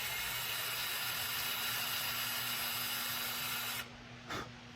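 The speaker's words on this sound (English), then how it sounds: "And I will just very carefully on a slow speed drill this out." A drill runs at slow speed through a car's trunk side panel, a steady close whirring hiss with a low hum that cuts off near the end, followed by a brief faint burst.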